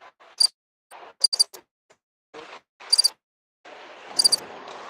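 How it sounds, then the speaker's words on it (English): Crickets chirping as a canned sound effect played off a mixer board, short bright bursts of chirps repeating in clusters with gaps of silence, ending in a denser trill over a hiss. "I'll take the Crickets."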